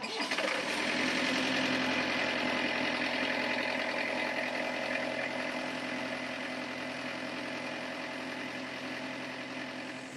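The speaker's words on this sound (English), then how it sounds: "turn the motor on and see if it, I want to see how it reacts to the prop shaft" A Yanmar marine diesel runs aboard a boat, turning the propeller shaft, with a steady close rumble and rapid even clatter that holds throughout and eases slightly toward the end.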